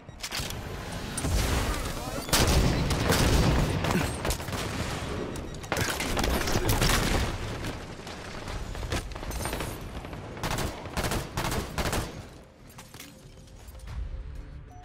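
Busy gunfire in the video game Halo 5: Guardians, with dense, continuous shooting and explosive bursts mixed with game voices, loud throughout and thinning out near the end.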